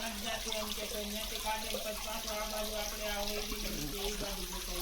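Water gushes steadily from a 140-foot borewell pump, a constant splashing flow under a low droning hum, with faint voices in the background.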